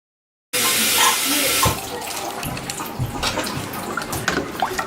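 Water pours steadily from a tap into a soup pot, a loud rushing stream that eases slightly into an ongoing splashing fill with small clinks.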